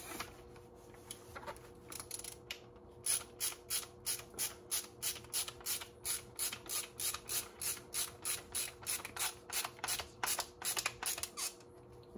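A screwdriver driving M3 screws into heat-set inserts on a 3D-printed mount gives a rapid run of regular ratcheting clicks, close and fairly quiet, after a few scattered handling taps.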